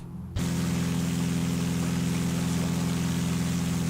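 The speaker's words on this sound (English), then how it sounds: "the engine noise is insanely loud" The piston engine of a Beechcraft Bonanza A36 in the X-Plane 11 flight simulator kicks in abruptly after a short quiet moment, then drones loud and steady with a strong low hum and hiss, no talking over it.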